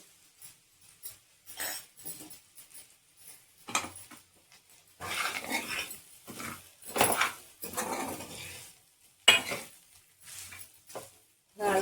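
A spoon stirs rice with a little coriander powder in a pan. Bursts of scraping and clinking come and go irregularly, close by, with quiet gaps in between.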